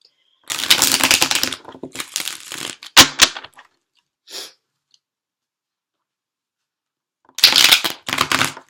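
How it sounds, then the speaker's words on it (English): Rider-Waite tarot cards being shuffled in several quick riffling bursts, a pause of near silence, then one more brisk shuffle close by. "That was a bad shuffle."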